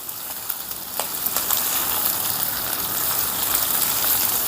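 Cauliflower pieces with green chillies fry in hot oil in a pan, giving a continuous close sizzle that builds slightly, with a few sharp pops and stirring clicks and no voices.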